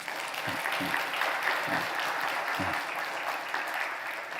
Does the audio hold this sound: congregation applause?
yes